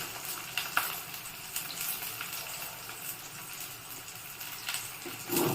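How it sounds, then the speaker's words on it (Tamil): Bottle gourd, tamarind and green and red chillies sautéing in a pan for chutney: a steady, close sizzle with a few soft stirring scrapes and no talking. "அப்புறம் 2 தக்காளி எல்லாத்தையும் போட்டு நல்லா வதக்கலாம்"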